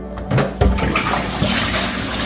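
Soapy rinse water being drained off raw chicken wings in a kitchen, a steady pouring and splashing flow that swells after the first half second and runs on continuously, close and fairly loud.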